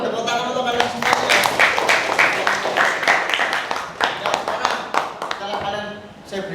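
A classroom of students claps together in a dense burst of hand claps, loud and fairly close, lasting several seconds before tapering off.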